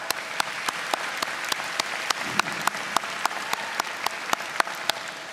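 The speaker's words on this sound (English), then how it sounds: "I believe you deserve a round of applause" Audience at a spring 2022 Aiken Technical College graduation ceremony applauds steadily, a dense wash of clapping with sharp regular claps standing out near the front, sustained throughout with no talking.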